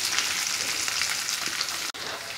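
Onions and capsicum frying on a high flame in a pressure cooker, producing a loud, continuous hiss and crackle heard up close, with a momentary dropout near the end.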